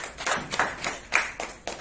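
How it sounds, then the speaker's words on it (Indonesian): A small group claps hands at a motivational sales meeting, giving about six loose, uneven bursts of clapping close by in under two seconds, with no talking over them. "Dan tepuk tangan dong"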